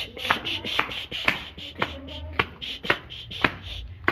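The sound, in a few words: cutting food while cooking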